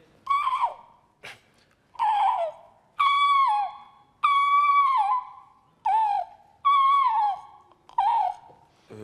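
A human voice imitates the trumpeting call of the common crane, a bird that migrates over France: about seven loud, clear, honking cries in an uneven rhythm, alone and close.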